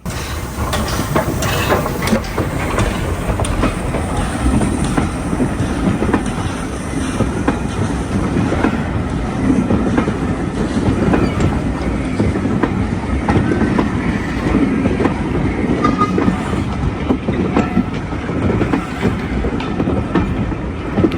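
A train rolls steadily past close by near Smallbrook Junction, with a continuous rumble, rhythmic clacking of wheels on rails, and occasional metallic hiss, no talking.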